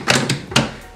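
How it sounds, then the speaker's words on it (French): A shelf drawer that is awkward to close is pushed shut in two or three quick, loud thumping slides, each a short scrape ending in a knock, close by with no talk. "Ce tiroir est un peu galère à fermer."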